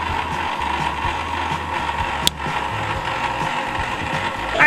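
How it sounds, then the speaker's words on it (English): An ice cream maker churning vegan pistachio matcha ice cream gives off a continuous mechanical whirring and ratcheting grind at moderate loudness, broken by one sharp click partway through, with no speech. "we're just gonna add the cream to the machine"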